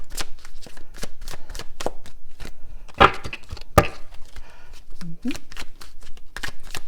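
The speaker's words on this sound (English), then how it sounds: "I've really shuffled these already, so I'm just going to stop and cut" Tarot cards riffled and shuffled in quick repeated bursts, crisp and close, with a sharp tap and a brief low voice partway through.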